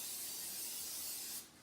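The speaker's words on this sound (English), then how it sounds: "So we just spray it real quick." Pam cooking spray hisses into a baking pan in one steady burst of about a second and a half, close and alone, cutting off sharply at the end.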